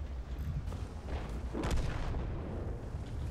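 A single muffled boom from a tank cannon in World of Tanks, rising briefly out of a low, steady engine rumble at moderate loudness.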